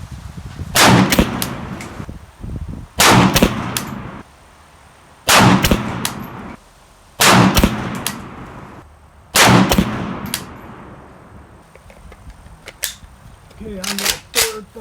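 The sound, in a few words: rifle gunshots, PSA AK-P 7.62x39 five-shot group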